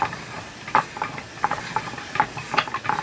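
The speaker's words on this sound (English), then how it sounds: "the noise you're hearing, the whirring is coming from the Swift" Repeated soft whirring and light clattering bursts, roughly rhythmic, over a steady hiss; a wooden yarn swift spinning close by as a hank is wound into a cake.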